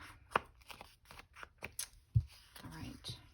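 Paper is snipped with scissors for a junk journal, a series of close, irregular crisp cuts and rustles, with a louder thump partway through and speech heard in the background.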